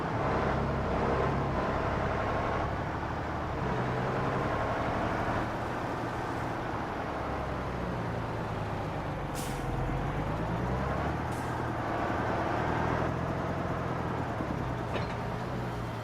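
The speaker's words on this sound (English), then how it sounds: "The creaking, the hydraulic sounds you can hear." Hydraulic creaks and clunks from a large plow on a big tractor rig in Farming Simulator 25, a steady low engine drone carrying the occasional sharp clunk and hiss, with no talking.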